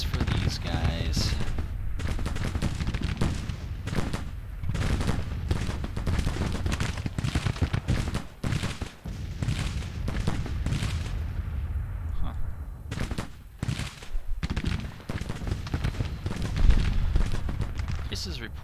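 Musket volleys crackle and rumble nearly nonstop in a Grand Tactician: The Civil War battle, dense overlapping gunfire with heavy booms rolling through, loud and continuous across the scene.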